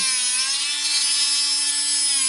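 Milwaukee cordless tungsten grinder whining steadily at close range as it sharpens a 1/8 inch tungsten welding electrode, a continuous high-pitched motor and grinding tone with no talking.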